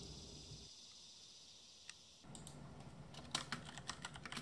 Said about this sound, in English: This thing is a one-handed Bluetooth keyboard that I built.